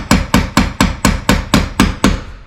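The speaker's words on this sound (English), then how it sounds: "use a nail punch to drive these in, just so I'm not having to be super perfect with the hammer" A hammer drives nails through a nail punch during a pole barn window and flashing install, giving nine sharp, evenly spaced metallic strikes at a steady rhythm, loud and close with no talk.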